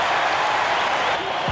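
A home crowd cheers and applauds after a victory in the NBA 2K22 basketball video game, a dense, continuous roar throughout.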